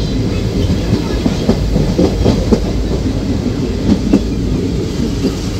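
Digha special fare train from Kolkata running near Tamluk, a loud continuous rolling rumble punctuated by rhythmic clickety-clack wheel beats over the rail joints.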